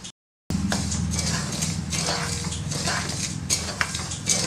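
Wheat rava dry roasting in a pan, stirred with metal utensil clinks and scrapes over a soft dry rustle, close and steady after a brief silent gap at the start.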